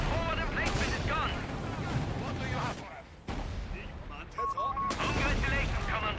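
Heavy gunfire and artillery boom through a video game battle at a besieged emplacement, sustained loud blasts and rattling shots with voices talking over the din.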